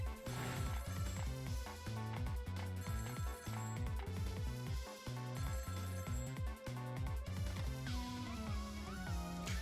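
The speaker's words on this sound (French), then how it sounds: "Avant que tu l'aies à changer son destin, t'as pas entendu un coup de fil?" A telephone rings in the video game Ghost Trick, a repeating electronic ring pattern with musical tones, steady and clear for several seconds with no talking over it.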